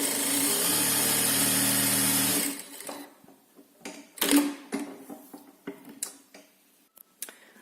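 An industrial sewing machine running flat out on stretchy fabric, a loud steady whirring hum for over two seconds that stops abruptly, followed by scattered clicks and handling knocks.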